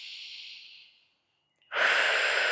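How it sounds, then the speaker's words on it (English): A deep breath, a long soft airy exhale that fades out, a brief near-silence, then a strong sustained inhalation, close and alone with no talking. "Take a deep breath with me."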